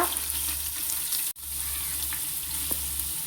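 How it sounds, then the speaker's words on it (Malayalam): Onion, ginger, garlic and green chilli sauté in three spoons of ghee inside a pressure cooker, giving a steady close sizzle that drops out briefly once midway and again at the very end. "ഇനി അതെല്ലാം കൂടി ഒന്നിച്ച് വഴറ്റി കൊടുക്കുക."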